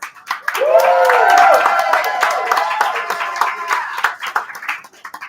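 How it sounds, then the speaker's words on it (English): Comedy club audience claps and cheers for a comedian, a steady burst of applause with a whistle near the start, fading into scattered claps toward the end. "I want a big round of applause for Jay Petty for bringing me up."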